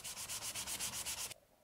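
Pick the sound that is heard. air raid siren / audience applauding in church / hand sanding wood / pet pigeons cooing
hand sanding wood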